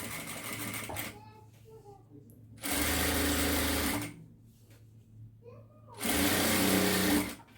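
A sewing machine stitches thread piping in two loud, sustained bursts of running motor and needle hum, separated by quieter pauses with faint background sounds.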